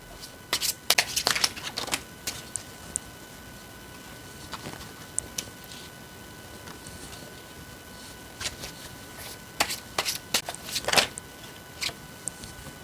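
Tarot cards are shuffled and drawn, with close, crisp bursts of riffling and flicking that come in uneven clusters separated by quieter stretches of card handling.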